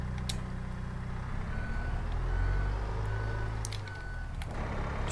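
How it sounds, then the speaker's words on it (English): A combine harvester in a farming video game gives off a steady reversing beep that sits over a constant low engine drone, with short sharp clicks scattered throughout. "Just keeping an eye on the combine."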